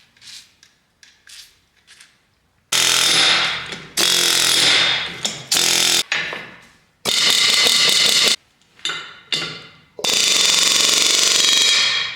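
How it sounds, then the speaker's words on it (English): An air hammer rattles in loud, rapid bursts against a brake drum on a Ford truck, several sustained hammering runs separated by short pauses and quieter taps. "I'm going to show you guys here how you could use the air hammer a little bit"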